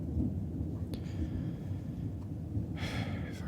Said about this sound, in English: I'm gonna see if I can't sleep through this storm